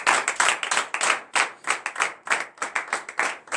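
Congregation at a morning prayer service in Benin clapping in unison to acclaim God, a steady rhythmic run of sharp hand claps, close and fairly loud, with no talking.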